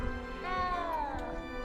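A cat meows in the video game Hogwarts Legacy: a single drawn-out, wavering in-game meow that rises and falls over about a second, standing clearly above a soft ambient background.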